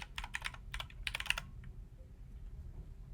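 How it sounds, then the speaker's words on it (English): Quick run of computer keyboard keystrokes entering a word into the web version of Outlook, a burst of closely spaced clicks in the first second and a half, then quiet low room hum with a few stray taps. "And we're going to type in signature."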